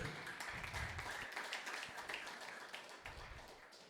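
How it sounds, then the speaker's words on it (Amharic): A church congregation clapping in praise to Jesus, a faint, distant patter of many hands that keeps up steadily throughout, with no voices on top. "አጨብጭቡ ለጌታ ለኢየሱስ ክርስቶስ"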